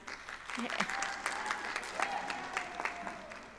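Audience applause with scattered cheers and whoops at a winter university commencement ceremony, steady and fairly loud throughout, with an announcer's voice faintly present underneath.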